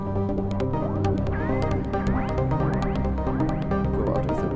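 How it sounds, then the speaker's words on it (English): A high-end synthesizer plays a melodic line with a delay effect, repeating chirpy pitched notes and sliding tones echoing over a sustained pad, loud and continuous with no voices. "So here we have the delay."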